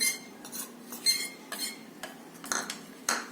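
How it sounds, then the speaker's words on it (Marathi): A metal spoon stirs two spoonfuls of vanilla custard powder into leftover milk in a bowl, making a series of quick clinks and scrapes against the sides in irregular bursts. "या शिल्लक राहिलेल्या दुधामध्ये 2 चमचे कस्टर्ड पावडर घालून व्यवस्थित मिक्स करून घ्यायचे आहे"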